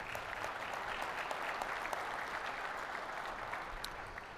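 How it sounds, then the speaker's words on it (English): An audience at a union conference's opening ceremonies claps steadily in sustained, dense applause that holds at an even level throughout. "Please, a round of applause for our sponsors."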